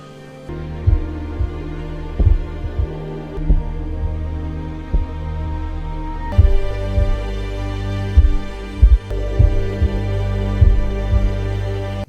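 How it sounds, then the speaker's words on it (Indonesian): A heartbeat sound effect thumps in a steady paired rhythm, deep and loud, over a sustained low droning hum for about twelve seconds, with no voices. "setiap malam Raizo mempertajam pendengarannya dengan mendengarkan suara detak jantung Kiriko dari jauh"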